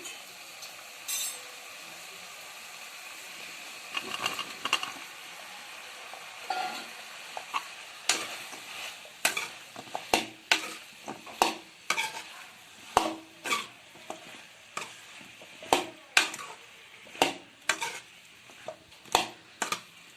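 Eggplant tossed into a hot pan and stir-fried for a curry, with a soft sizzle under repeated sharp scraping and clinking of a spatula against the pan in a steady rhythm, close and fairly loud.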